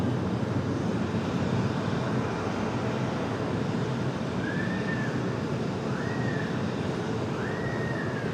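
An American Airlines jet in bare metal livery at Raleigh-Durham airport, a steady loud engine roar with broadband rumble, and a few faint rising whines near the end, no talk.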